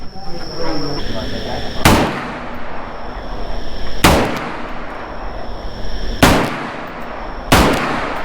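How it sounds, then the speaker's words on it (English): Gunshots fired close by at a shooting range beside the Cu Chi Tunnels, four sharp, very loud cracks spaced about two seconds apart, each with a rumbling tail, over a steady background hiss. "someone next to me started shooting. You can hear it there"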